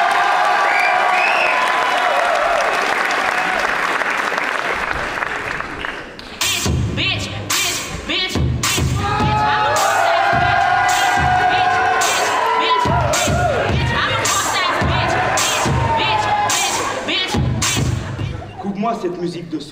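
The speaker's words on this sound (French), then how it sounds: "merci d'applaudir le candidat numéro 4, Maxime Galichet du lycée Fabert." A high-school comedy festival audience applauds and cheers a young comedian, first a steady wash of clapping, then sharper rhythmic claps, whoops and shouts with loud music rising through it.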